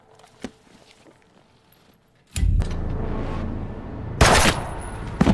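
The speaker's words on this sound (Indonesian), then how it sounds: "Dengan mematikan lampu, dia menembak bawahannya." A film scene from Payback (2021) where a man fires on his underlings in a darkened room: a sharp early shot, then a sudden loud barrage of gunfire with another heavy burst near the end, no talking.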